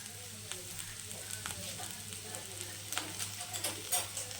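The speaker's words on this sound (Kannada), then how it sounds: "ಚೆನ್ನಾಗಿ ಫ್ರೈ ಮಾಡಬೇಕು ಇದನ್ನು" Onion, garlic, ginger and green chillies frying for chicken sambar, a faint steady sizzle in a pan with occasional scrapes of stirring, close and low.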